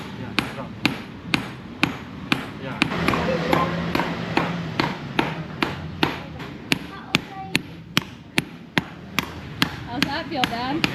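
A hammer strikes silver being shaped into wedding rings, sharp metallic blows landing in a steady rhythm of roughly two per second, ringing clearly over low background voices.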